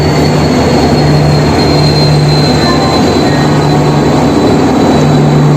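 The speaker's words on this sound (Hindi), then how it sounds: "और ये कामरूप एक्सप्रेस जो घुस रहा है 40602," Kamrup Express train rushing past alongside a moving Howrah Ranchi Shatabdi, heard from onboard: loud, continuous rumble and rattle of wheels on rail with a steady high whine, filling the whole stretch without pause.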